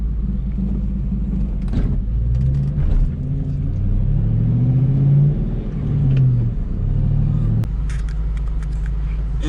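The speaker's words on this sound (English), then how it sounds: "that was a quick ride in my 1997 Ford Mustang Cobra" A 1997 Ford Mustang Cobra on the road, its engine a steady low rumble that swells and eases as it accelerates, close and continuous, with a brief knock near the end.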